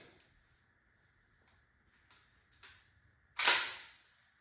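Single sharp crack of an Umarex T4e HDX 68 CO2 air pistol firing, loud and close after a few seconds of quiet with faint handling clicks.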